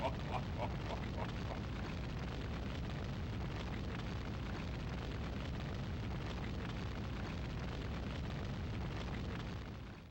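Roaring fire on a burning roof in the game Nightmare Creatures, set in Westminster: a dense, steady crackling rumble that fills the whole stretch with no break and fades slightly at the end.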